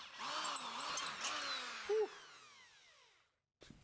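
A power drill whirs steadily, its pitch winding up and down as it drives self-tapping screws for tail lights on a camper build, with a brief higher whine near the end before it stops and a short click follows.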